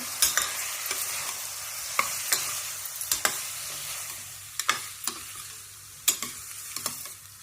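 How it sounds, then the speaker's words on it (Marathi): Brown rice roasts in a pan with a little oil, a faint, even sizzle punctuated every second or so by sharp scraping strokes of a stirring spoon. "कमी तेलातच व्यवस्थित भाजून घ्यायचं."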